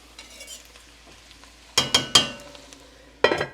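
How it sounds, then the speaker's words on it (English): Cabbage fried with bacon in a pan, a low steady sizzle broken by a few loud metallic scrapes and clinks of a utensil against the pan, near and with no talking. "now our cabbage is perfectly fried"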